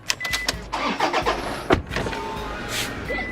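A car on Koh Chang island starting up and running, with a few knocks and clunks at first, then a steady engine drone, fairly loud and close.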